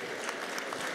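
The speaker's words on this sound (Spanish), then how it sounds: "un aplauso para Luis." Audience applause for a presenter at a SENA session at Campus Party in Medellín, a brief, dense wash of many hands clapping at steady, moderate loudness with no voices.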